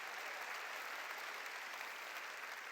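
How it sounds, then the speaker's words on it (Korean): Steady applause from a church congregation during a New Year blessing revival service, a dense even wash of clapping that holds constant from start to finish with no voices standing out. "깨달은 사람만 박수치라고"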